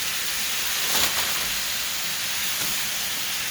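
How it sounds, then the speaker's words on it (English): Mushrooms sizzling in a frying pan give a steady, close hiss with no talk, holding even throughout with a slight swell near the start. "we're going to just let that keep sizzling a little bit"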